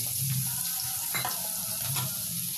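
Chopped onions fry in a hot pan and are stirred as they cook, giving a soft, steady sizzle broken by a few scraping strokes of the spoon.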